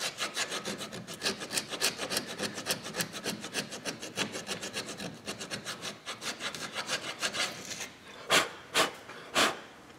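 Rust being dug and scraped out of the speed sensor hole on a Ford Explorer Sport Trac, a close, steady rasping rub repeated in quick strokes, ending with a few separate louder scrapes.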